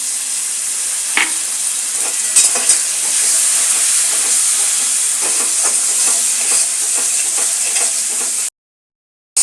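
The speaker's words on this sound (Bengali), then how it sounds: "দেখুন আমার মশলাটা কষা হচ্ছে খুব ভালো করে এটা আমি মশলার জল দিয়ে দিয়ে একটু কষবো" Spice paste for a hot, spicy chicken curry sautés in a pan with ground-spice water added. A steady close hiss and sizzle runs under repeated spatula scrapes, then cuts off abruptly near the end.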